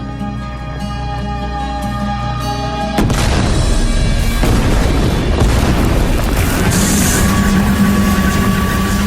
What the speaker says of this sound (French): que serait une retraite de méditation sans quelques explosions?